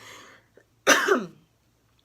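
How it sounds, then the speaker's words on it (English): A single short cough, close and fairly loud, standing alone between quiet moments with faint breathy sounds before and after. "I want to cough."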